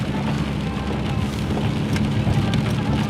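Rain heard from inside a car driving on a cold, rainy day along a city avenue: steady patter and road hiss over a low engine rumble, with occasional soft drop or wiper-like ticks.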